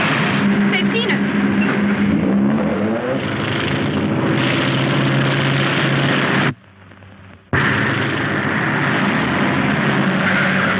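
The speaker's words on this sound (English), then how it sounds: "There's the plane." A propeller airplane drones loudly overhead with a steady, rich engine roar that cuts out for about a second before resuming.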